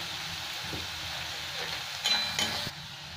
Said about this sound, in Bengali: পেঁয়াজটাকে লাল লাল করে ভেজে নেবো আমি